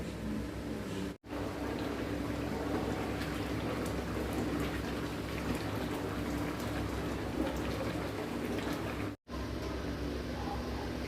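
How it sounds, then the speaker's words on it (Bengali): Kabuli chana (chickpeas) bubbling in a pot on the stove, a continuous dense fizzing, popping simmer that stays steady and close, briefly cut twice, with no voices. "এখন ভালো করে ফুটবে।"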